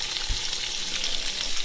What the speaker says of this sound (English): And here's the potatoes boiling away